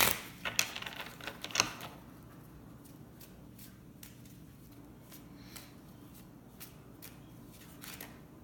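Oracle cards from a crystal deck are shuffled in a few quick riffling bursts at the start, followed by faint scattered taps and card handling in a quiet room.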